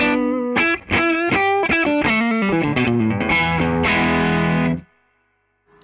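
An electric guitar plays a run of bright, distorted chords and notes through a Mesa Boogie Lonestar amp with reverb, loud and steady, then stops and leaves a short reverb tail fading into near silence.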